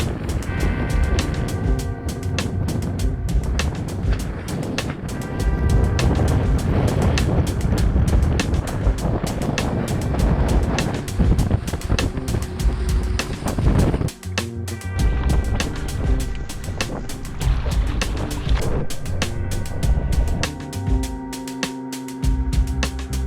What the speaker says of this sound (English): The wind is easterly, quite strong, a bit gusty.